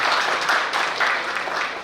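Steady applause from a theatre audience, a continuous wash of clapping with no voices over it.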